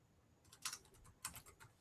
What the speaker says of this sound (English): Just typing in everything.